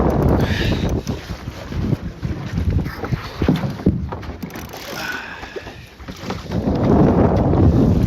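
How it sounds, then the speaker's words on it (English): A Zenith sailboat comes about in gusty, shifting wind, with steady wind buffeting and rushing water and hull noise throughout, swelling louder toward the end. "let's go for another tack here"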